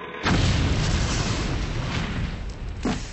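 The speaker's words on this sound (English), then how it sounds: "the Holy Cross Church blew up at exactly 7:35 p.m." A church explodes with a single deep boom that rolls on as a long, rumbling roar, with a sharp crack near the end.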